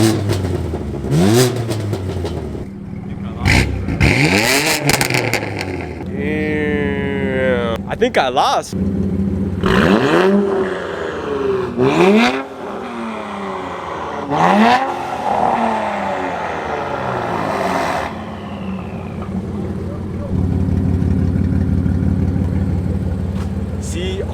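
An Infiniti Q50 with a Borla exhaust revs repeatedly in sharp rising bursts, loud and close, with people talking briefly between the revs.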